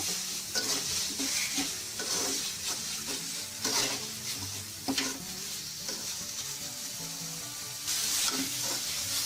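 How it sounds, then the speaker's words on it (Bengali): Boiled crab pieces sautéed in a pan for a Bengali crab curry, with a steady sizzle broken by repeated scraping stirs of a spatula and occasional clinks against the pan, close and fairly loud, with no voices. "এখন আমরা এটাকে একটু কষাবো।"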